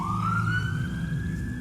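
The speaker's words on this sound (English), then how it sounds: "Oh, there goes the ambulance." A wailing ambulance siren in the PC game The Elder Scrolls IV: Oblivion, a loud rising tone sweeping upward close by, with a low rumble underneath.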